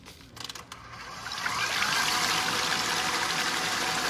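Cream sloshing in a 7-quart stand mixer as it churns toward butter, a few clicks at first and then a steady, building liquid swish with a mechanical whir underneath.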